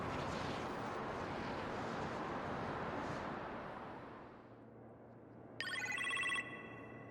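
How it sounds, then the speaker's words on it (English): A phone rings in a kitchen in the Iron Man VR game, a short bright electronic trill heard once near the end after a loud rumbling roar fades down. "You appear to have a phone call in the kitchen, sir."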